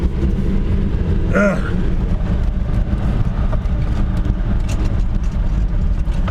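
A vehicle's engine rumbles steadily in first gear as it climbs over rough, rutted ground on a former military road high above Anchorage, heard up close with continuous low droning and occasional clunks from the bumpy surface.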